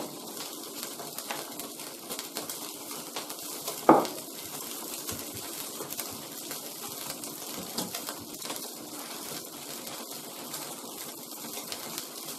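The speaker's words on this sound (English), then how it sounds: "Now, right, let that start to boil down." Poroporo (raupeti), a New Zealand plant, simmering down in a pot, heard as a steady bubbling, sizzling hiss throughout with one brief louder knock partway through, no talking.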